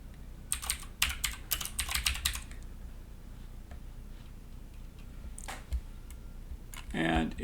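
Quick bursts of typing on a computer keyboard during a Photoshop session, close clicks in a fast run followed by a few isolated keystrokes and a brief sound at the end.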